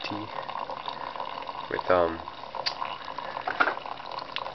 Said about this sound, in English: the servo pours the water out